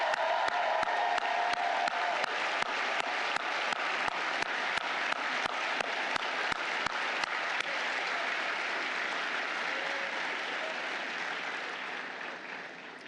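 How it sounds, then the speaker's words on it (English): A large crowd at a Georgetown University commencement ceremony applauds family and friends in sustained, dense clapping with scattered cheers and whoops, loud throughout and tapering slightly toward the end. "can we please have a huge round of applause to all the family and friends who helped make today"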